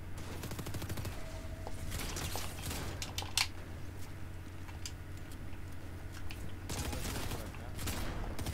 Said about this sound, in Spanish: Me disparan de todas fucking partes.